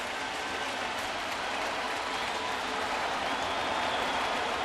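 A 2011 Yankee Stadium crowd at a New York Yankees game against the Toronto Blue Jays roars loudly and continuously in the bottom of the seventh inning, a dense wall of cheering and clapping that swells slightly toward the end.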